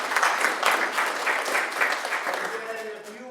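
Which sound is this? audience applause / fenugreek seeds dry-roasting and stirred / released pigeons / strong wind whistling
audience applause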